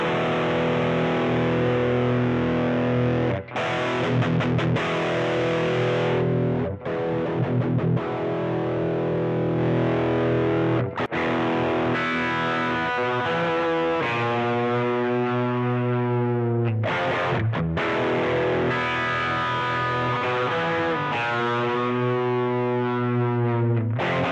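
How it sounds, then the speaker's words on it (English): A heavily distorted electric guitar plays sustained, gritty chords and held notes, loud and saturated, with brief pauses between phrases. "now let's dial in a distortion sound"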